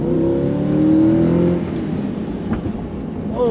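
A Chevrolet C8 Corvette accelerates hard, its engine note climbing through a rising whine before easing off, followed by a rougher low rumble and a brief rev at the end, close and loud.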